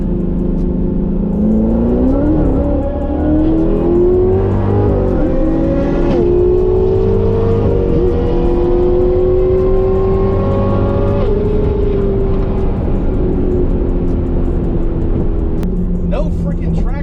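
Corvette C8 Z06 accelerating hard and struggling for traction, its engine roaring loud and near with pitch climbing through the gears, while a voice talks over it.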